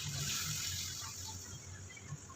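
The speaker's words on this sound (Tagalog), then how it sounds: "lagyan ko siya ng isang cup na tubig" Water being poured from a cup into ground pork cooking in a pan, a steady broadband gush and sizzle that holds evenly for a couple of seconds at close range, with no talking.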